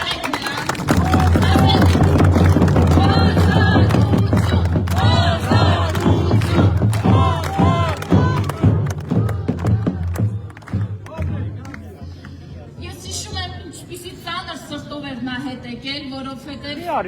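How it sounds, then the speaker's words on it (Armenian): A large crowd at an outdoor political rally breaks into loud, sustained applause and cheering with shouts, dense and close, fading to scattered claps while someone speaks over it. "ծափահարեք նրան"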